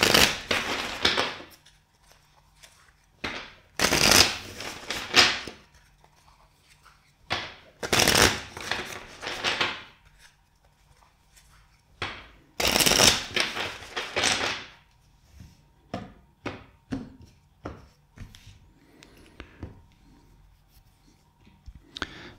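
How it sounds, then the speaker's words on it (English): A deck of tarot cards is shuffled by hand in several separate bursts of crisp riffling and flapping, with quiet handling clicks and taps between them, close and clear. "First, let's shuffle the deck four times for you."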